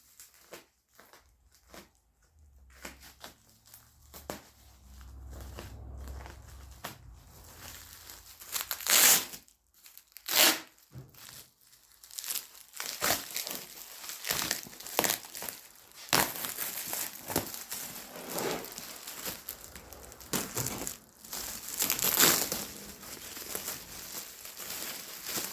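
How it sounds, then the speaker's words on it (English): Packing paper wrapped around an Indian-made fuel tank is sliced with a pocket knife and pulled away, giving irregular crinkling, tearing and rustling bursts close to the microphone with pauses between them, no voices. "Let's slice the paper."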